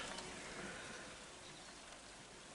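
Steady rain hisses quietly and evenly, a soft continuous patter with no voices.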